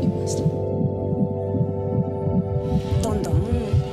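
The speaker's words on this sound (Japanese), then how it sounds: "こんななんか強い心臓の音、一生懸命動かしてちっちゃいのに頑張って頑張って出てこようとしてるんだな" A strong, fast baby heartbeat pulses steadily throughout, with rhythmic soft thumps repeating evenly beneath a constant low hum.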